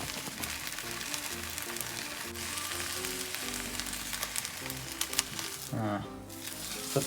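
Egg cooking in a pan for Chinese cold noodles gives a steady, soft sizzle and crackle throughout, with background music playing over it and a brief louder clatter near the end.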